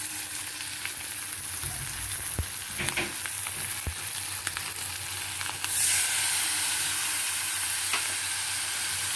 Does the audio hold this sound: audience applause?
no